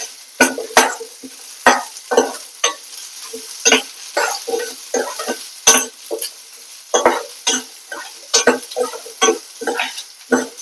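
Small sambar onions go into a pan with urad dal for chutney and are stirred, giving sharp close spoon scrapes and clinks against the metal in an irregular rhythm over a faint sizzle, with no talking.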